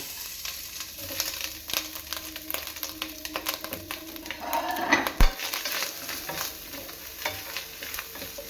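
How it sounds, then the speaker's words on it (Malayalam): Grated coconut roasting in a pan for jackfruit thoran, stirred steadily with soft scraping and a gentle sizzle, one sharper knock midway, close and fairly quiet with no talk. "അപ്പോൾ ഇത് ഞാൻ തേങ്ങ വറുത്തെടുക്കട്ടെ കേട്ടോ"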